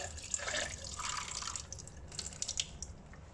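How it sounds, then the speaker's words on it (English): Tap water runs steadily in a histology lab sink while slides are rinsed during hematoxylin and eosin staining, a close, soft hiss with scattered faint drips and splashes and no talk. "This step I will do it under the tap water, so that this water will be changed all the time."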